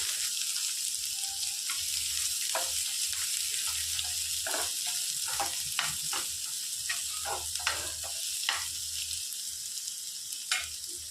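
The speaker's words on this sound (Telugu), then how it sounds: "ఇందులోనికి సన్నగా తరిగి పెట్టుకున్న ఉల్లిపాయలు వేసుకొని వేయించుకోవాలి" Finely chopped onions fry in a pan for capsicum masala gravy, a continuous close sizzle broken by frequent scraping stirs and clinks, with no speech.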